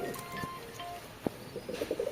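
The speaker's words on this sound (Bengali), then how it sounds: "তো এই পায়রাগুলো সবই সেল আছে" Pigeons coo softly and close by, low throaty calls with a few faint chirps and small knocks around them, fairly quiet with no talk.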